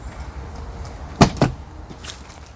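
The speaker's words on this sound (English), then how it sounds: "We then open the door." A vehicle door is opened during a walk-around check. Two sharp clunks from the latch and door sound close by against a low background hum, followed by faint rattles.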